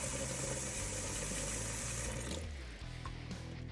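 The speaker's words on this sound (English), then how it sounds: "Run cool water over the eggs to bring the temperature down." Cool tap water pours steadily over freshly boiled eggs in a kitchen sink, a dense continuous rush that shifts in tone partway through as the flow changes.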